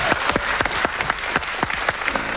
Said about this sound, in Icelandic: ég ætla að gefa hljómsveitinni eitt eins og gefa þeim gott klapp